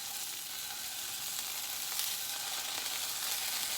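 Potatoes frying in a pan give a steady, close hiss and crackle of sizzling oil that holds evenly throughout, with no talk.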